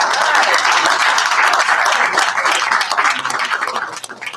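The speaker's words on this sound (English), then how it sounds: "Give yourself a round of applause." A group of children gives a round of applause at a community event, dense and continuous clapping close by that thins out toward the end.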